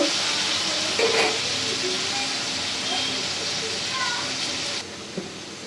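Potatoes for a rohu fish curry frying in hot oil, a steady close sizzle and hiss with a few faint clinks and brief scrapes, fading slightly near the end.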